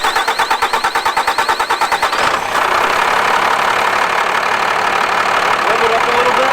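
A First Gen Cummins diesel truck engine idles close by with a steady knocking chatter, pulsing rhythmically for the first two seconds before settling into a dense, continuous rumble.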